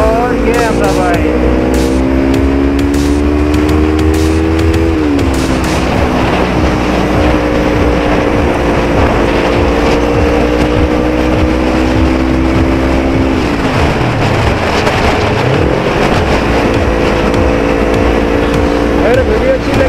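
A Suzuki GSX-R 600 motorcycle's exhaust roars loud and close, its engine tone rising and falling through revs in sustained droning sweeps.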